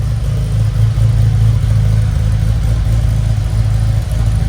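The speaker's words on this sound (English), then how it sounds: "I just wanted to let you hear it run here inside." A 1987 Porsche 930 Turbo idles steadily indoors in a storage facility, a loud, close, even low rumble that holds constant throughout with no voices.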